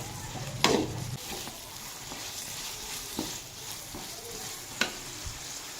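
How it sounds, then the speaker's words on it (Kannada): Tomatoes frying in a home kitchen pan with a faint, steady sizzle and a few sharp utensil knocks against the pan. "ಟೊಮೊಟೊನು ಕ್ಲೀನಾಗಿ ಸ್ವಲ್ಪ ಅದು ಹಸಿ ಸ್ಮೆಲ್ ಹೋಗೋವರೆಗೂ ಫ್ರೈ ಮಾಡ್ಕೋಬೇಕು."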